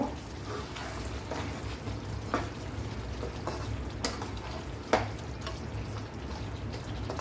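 Chicken kosha curry is stirred in a hot pan after a splash of kewra water: a steady, close sizzle of frying with occasional sharp scrapes and clicks from the spoon against the pan.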